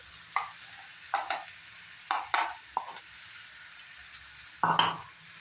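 Onion and tomato fry in a pan under a quiet sizzle, while several separate spatula stirs and scrapes come through clearly in brief bursts.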